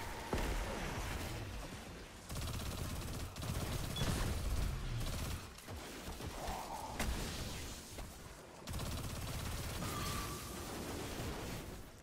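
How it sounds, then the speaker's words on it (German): Rapid bursts of submachine gun fire in Destiny 2 crackle continuously alongside dense game noise and other shots, with no pauses throughout. "Auch die Maschinenpistole geht gut ab."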